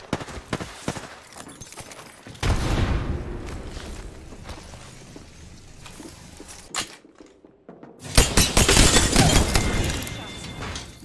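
A frag grenade goes off in the shooter Apex Legends, a loud burst of blast noise after a short quiet gap, following scattered gunfire, footsteps and game clatter with a voice talking over the earlier part.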